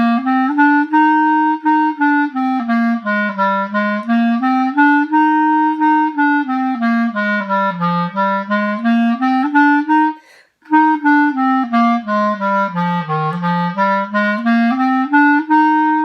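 A clarinet plays the Campbell finger pattern backwards, descending from thumb high F, in a continuous smooth legato line of rising and falling notes with one brief breath break midway, close and solo.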